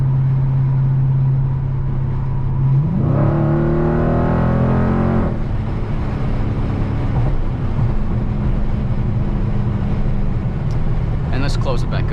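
A 2020 Dodge Challenger Scat Pack Widebody heard from inside the cabin with the sunroof cracked: a low, rumbling idle swells into a throaty rev for a couple of seconds, then settles back to a steady burble, with talking near the end.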